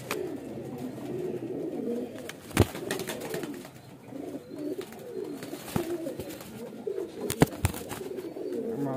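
Pigeons cooing in low, repeated murmuring phrases that run through the whole stretch, with a few sharp knocks and thumps nearby, no one speaking.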